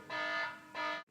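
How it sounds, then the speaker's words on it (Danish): An electronic alarm beeps twice indoors, each a sustained buzzy tone lasting about half a second, loud and steady, with a short pause between and silence after. "Undskyld den lyd, det var lige en alarm."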